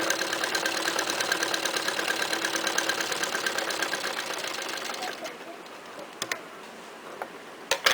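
An electric sewing machine stitches fabric in a steady, fast, high buzzing run for about five seconds, then stops, leaving a quiet room and a few sharp clicks.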